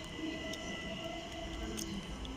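A Class 377 electric train pulls away from Clapham Junction, giving a steady rumbling roar with faint high whines and brief squeals, moderately loud and continuous, with no voices.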